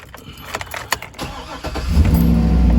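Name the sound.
Cadillac Escalade engine being started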